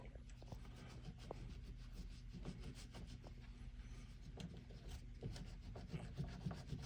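A polishing cloth rubs a heavy silver skull ring in steady, continuous strokes, a close, soft scratchy friction with a low hum underneath and no talk.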